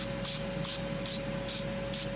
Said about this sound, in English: to use a little Pam spray.